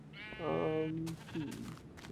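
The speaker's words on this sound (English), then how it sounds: "I shouldn't kill that sheep, because he's looking at me funny." Sheep in the video game Minecraft giving two close, clear bleats, a long wavering one followed by a shorter one, over a quiet background.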